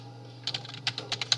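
Computer keyboard typing starts after a quiet moment, a run of close, crisp key clicks at an uneven rhythm over a low steady hum, with no talking.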